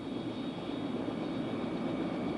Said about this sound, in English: Check engine idle between 62 and